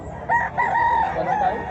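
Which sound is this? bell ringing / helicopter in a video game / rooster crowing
rooster crowing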